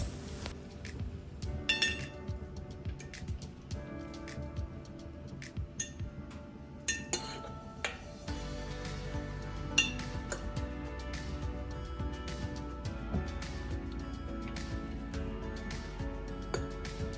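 Chicken pieces in barbecue sauce being turned over in a baking pan, with clinks and light metallic taps of a utensil against the pan scattered throughout and a steady kitchen hum underneath.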